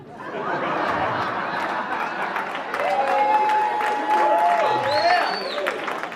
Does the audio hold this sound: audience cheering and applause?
yes